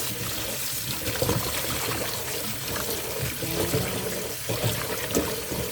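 Tap water runs and splashes steadily while meat and herbs are rinsed for a countryside barbecue, with a continuous trickle and faint handling noises throughout.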